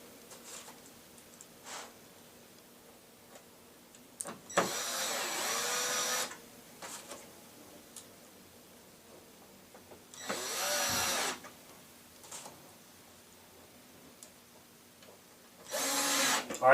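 A power drill drives screws into pre-drilled holes while a Forevermark Lazy Susan cabinet is assembled, whirring in three separate bursts of about two seconds each, close by, with quiet handling noises between them.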